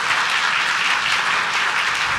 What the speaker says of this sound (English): Let's give them a round of applause, guys.